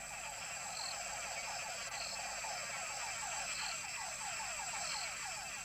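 Frog calls broadcast as bait for frog-eating bats, a faint, steady chorus of rapid repeated croaking notes running throughout, with a few higher call bursts recurring at intervals.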